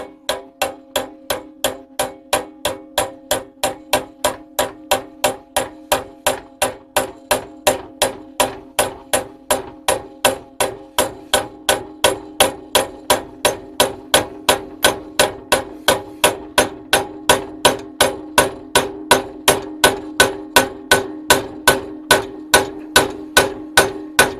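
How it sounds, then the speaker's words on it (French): A hammer gently and repeatedly taps a part so it goes in straight and sits flush. The blows are close and crisp, evenly spaced at about two per second throughout, with no talking. "on sent le bruit du marteau qui est un peu différent"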